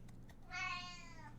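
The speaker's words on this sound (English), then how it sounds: "What's wrong? What's wrong, kitty?" A single drawn-out cat meow, clear and close, rising then slowly trailing off over about a second in a quiet indoor room.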